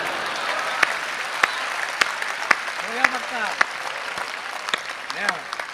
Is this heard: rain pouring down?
no